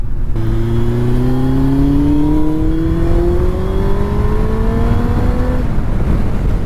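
A Yamaha Fazer 1000 motorcycle accelerates on a highway, its engine note rising steadily in pitch through a long pull of about five seconds before easing, over constant wind and road roar.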